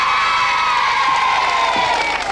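Studio audience of children on a 1991 TVS game show erupts in loud shrill cheering and whooping, a sustained close crowd roar lasting a couple of seconds.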